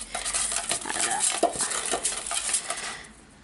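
Paper contest entry slips get mixed in a container, a busy rustling and clattering shuffle lasting about three seconds before trailing off.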